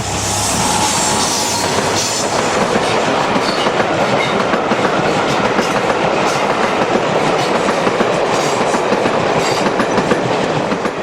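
A Class 67 locomotive hauls a railtour charter train past, wheels clattering steadily over the rails in a loud, continuous rush with no voices.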